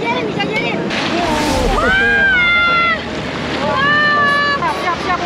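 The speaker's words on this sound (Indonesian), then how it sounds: "Wah, ada ombak lagi. Awas, ombak. Wah, kuat banget." Ocean waves wash onto a sandy beach with a broad rush of surf and wind noise, while excited voices call out over it up close.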